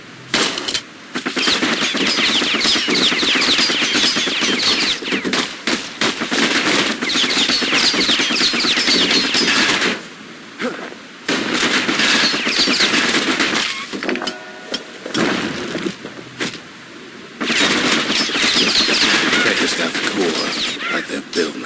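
Enemy gunfire in the video game Bastion, bursts of rapid machine-gun-like shots in long loud stretches separated by brief pauses, mixed with game sound and no clear talk.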